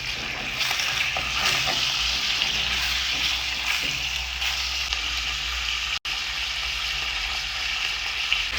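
Liver sizzling in a hot pan with salt added, a steady, dense frying hiss that runs continuously and fairly loud, with a brief cut near the end and no talking.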